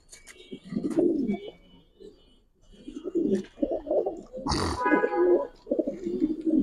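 Chuithal Iceberg pigeons in a loft coo in soft, repeated bursts, close by and fairly quiet, with a brief sharper sound partway through.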